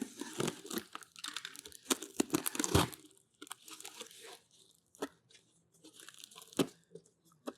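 Packaging around a Nikke figure box being sliced and torn open, a close run of crinkling, ripping and crunching bursts, dense at first and then more scattered.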